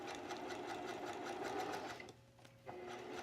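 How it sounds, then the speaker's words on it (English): A sewing machine runs steadily, stitching a quarter-inch seam around the curved facing of a little black dress, then pauses briefly before resuming. "I'm stitching here with a 1/4 inch seam allowance."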